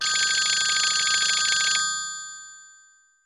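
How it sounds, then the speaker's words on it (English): Electronic cell phone ringtone in a Minecraft animation, loud and close, trilling steadily for almost two seconds before cutting off into silence. "A cell phone? Who would be calling me this late at night?"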